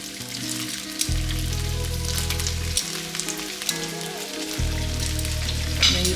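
Carrots and broccoli frying in a pan, a dense close crackling sizzle like light rain on a hot surface, steady throughout with a low hum underneath and no voices.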